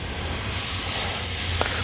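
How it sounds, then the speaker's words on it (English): Fruit pieces coated and laid on a hot grill, giving a steady, loud hiss of sizzling that carries on throughout, close up, with a brief faint tap near the end and no talking. "You hear that beautiful sizzle."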